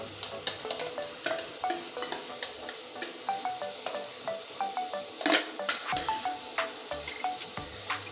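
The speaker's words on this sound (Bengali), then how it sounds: "এবার সুন্দর মতো কষতে থাকবো" Minced chicken for momo filling is sautéed and stirred in a pan, giving a soft sizzle under repeated close scraping and clinking strokes of a utensil at a steady pace.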